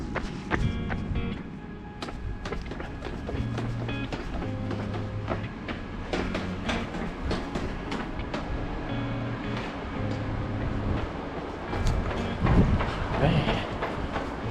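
An RER commuter train rolling overhead on a bridge in Palaiseau, a loud sustained rumble with repeated rhythmic clacks and rattles through the whole stretch, heard from underneath.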